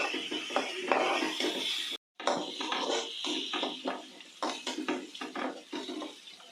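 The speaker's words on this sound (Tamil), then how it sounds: "வெங்காயம் நல்லா வதங்கட்டும்." Soft, irregular scraping and stirring of onions sautéing in a pan, with a faint sizzle underneath and a brief silent gap partway through.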